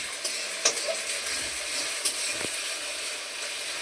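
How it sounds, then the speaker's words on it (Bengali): Ginger garlic paste fries in a pan, giving a steady close sizzle with a few light clicks and scrapes of stirring, no talking. "আদা রসুনটা ভালো করে ভেজে ভেজে নেবো"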